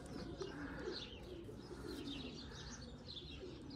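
Pigeons in a loft with two females raising young coo softly and repeatedly among low rumbling and murmuring bird sounds, a continuous, fairly faint close-by chorus.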